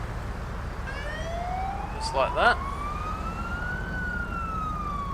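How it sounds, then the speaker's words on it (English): A wailing Australian emergency vehicle siren sweeps slowly up and down in the distance over steady traffic rumble, with a brief spoken remark partway through. "we now have Australian sirens installed"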